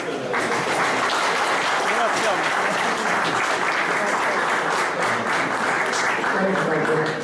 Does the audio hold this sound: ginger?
no